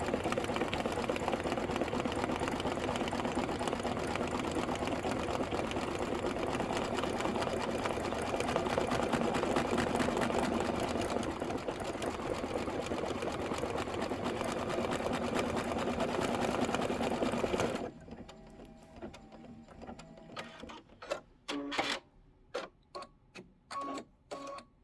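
An embroidery machine stitches a Kimberbell bench buddy pillow design in a long, steady, loud mechanical whir that stops, followed by sharp clicks and taps as the machine finishes.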